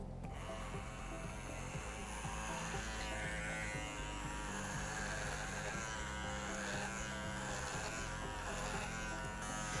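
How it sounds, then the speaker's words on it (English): A Philips electric hair trimmer set to 6 mm cuts hair on a doll head, giving a steady close buzzing hum for the whole stretch, with faint crunchy cutting texture and no talk. "Then we trim everything at the same length against the grow direction."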